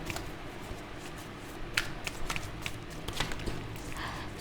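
Oracle cards being shuffled by hand, a soft papery riffle and ruffle with several brief sharper flicks, steady and close under a faint room hiss, with no talking.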